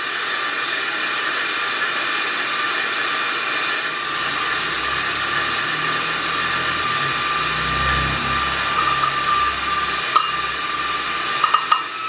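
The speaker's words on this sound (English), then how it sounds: "this is my 15 years old KitchenAid" A 15-year-old KitchenAid stand mixer whips meringue in the soft-peak stage as white sugar is added, a steady close motor whine with a low churning rumble and a few clinks near the end, no talk.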